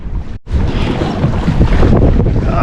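Open-ocean swell and gusting wind off the Oregon coast, heard from a kayak as loud, continuous rushing buffeting of the microphone after a brief dropout near the start.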